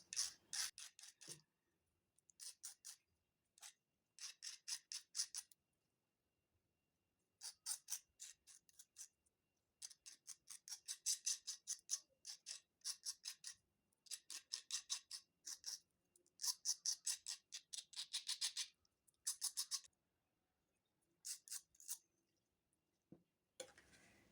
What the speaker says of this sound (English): You can file these ends with your bigger file or a needle file or a multi-tool